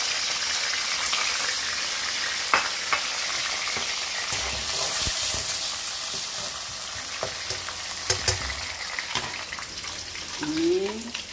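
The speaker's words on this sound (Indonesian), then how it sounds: "kita tumis bumbunya" Steady, loud sizzling of spice paste frying in a hot pan for Acehnese puteh itek duck, with occasional scraping clicks from stirring throughout.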